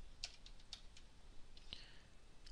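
A URL is typed on a computer keyboard, heard as a few faint, scattered key clicks at an uneven pace in a quiet room.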